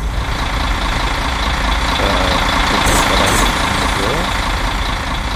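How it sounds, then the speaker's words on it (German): A long-distance coach bus engine idles loudly and steadily, a constant low rumble filling the whole stretch with a faint high whine on top. "Ich muss mal ganz kurz den Bus ausmachen. Das ist ein Lärm."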